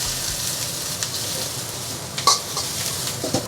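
Shredded ginger, onion and a little scallion white sizzle and fry in a cast-iron wok over low heat while dry-fried beef ho fun is cooked, a steady close crackle with a few light stirring scrapes and clinks.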